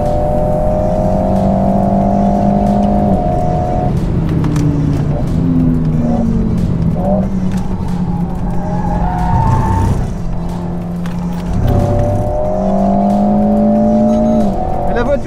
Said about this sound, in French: Elle est tellement saine, même quand elle part comme ça, c'est trop rattrapable, c'est génial.